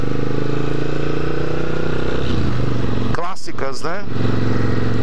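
A restored classic motorcycle engine idles with a steady low rumble, loud and close, while someone talks over it partway through.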